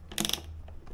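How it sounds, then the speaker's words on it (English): A wrench tightens a nutsert on a car ramp, giving one quick, close burst of metallic ratcheting clicks in an otherwise quiet moment. "you can really, really wrench down on those nutserts"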